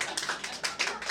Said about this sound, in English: You can clap, it's fine.